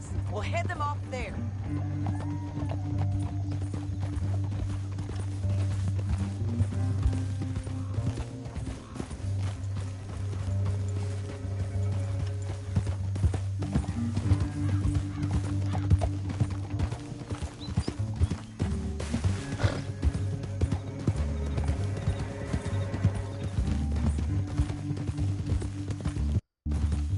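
Galloping horse hooves drum continuously beneath a steady musical drone in Red Dead Redemption 2, with voices talking over the pounding rhythm at moderate loudness.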